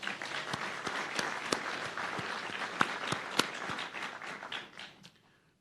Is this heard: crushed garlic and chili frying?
no